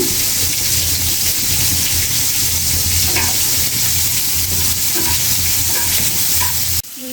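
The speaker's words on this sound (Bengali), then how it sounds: "মাছ পেঁয়াজ আর কাঁচামরিচ ভাজি হয়ে গেছে" Fish with onion and green chili frying loudly in hot oil, a dense, steady sizzle running nearly unbroken throughout, with a few faint utensil taps.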